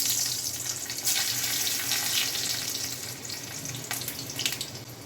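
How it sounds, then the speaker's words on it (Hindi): Garlic and dried red chilies fry in hot oil for a Chhattisgarhi white chech bhaji, giving a steady, fairly loud sizzle with crackling bursts throughout and no voices. "तो सबसे पहले लहसुन और सूखा मिर्ची ला डाल देबो"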